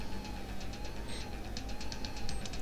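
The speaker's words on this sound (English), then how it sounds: "Police car and the music." A police car siren from a video game sounds over game music, a steady, mid-loud wailing tone with rapid rhythmic pulses and no talking.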